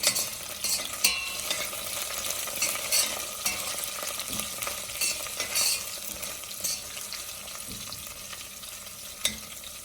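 Curry leaves, stripped from their stems, fry in hot oil in a home kitchen pan: a close, steady sizzle and crackle with occasional scrapes and clinks of a spoon stirring.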